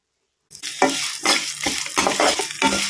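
Steady crackling sizzle of sesame seeds frying in hot oil in a pan, with repeated stirring scrapes throughout, close and fairly loud.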